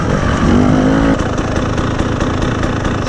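A 2021 KTM 300 TPI two-stroke motorcycle idles steadily after an idle-screw adjustment, a loud, close, continuous putter with a brief higher tone early on, no talking.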